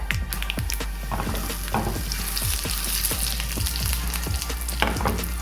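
Dried red chilies and curry leaves sizzle and crackle steadily in hot oil for a Kerala chempu kappa koottu tempering, a dense close frying hiss with frequent sharp pops and no talking.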